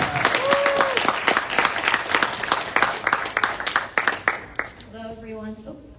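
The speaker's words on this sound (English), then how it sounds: "Please give a round of applause." Town hall audience applauds a youth group working against police brutality, a burst of many hands clapping that fades out before a voice begins to speak.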